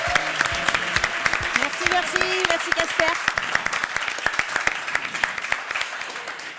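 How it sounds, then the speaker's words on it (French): Studio audience applauding the host Camille at a corporate game show, a dense wash of clapping throughout, with a voice speaking briefly over it near the start. "Un tonnerre d'applaudissements pour Camille!"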